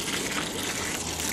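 Water gushes steadily from a hose or can while a young plum tree is watered on a property, a continuous close splashing rush with no voices.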